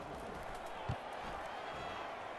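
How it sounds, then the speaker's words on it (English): A stadium crowd in the College Football 25 video game keeps up a broad, steady roar after a touchdown, with a single thump breaking through and commentary talk layered over the top. "And listen to this crowd."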